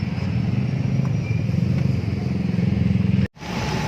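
Idling car engine, heard up close after timing chain work, a steady, even low rumble with a faint ticking clatter, holding level until a sudden brief dropout near the end.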